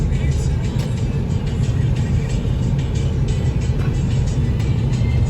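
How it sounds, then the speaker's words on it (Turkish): A car on the road heard from inside the cabin, with a steady low rumble of engine and road noise that stays constant and fairly loud throughout, with no voices on top. "Arkadaşlar biz arabaya bindik. Şimdi eve gidiyoruz."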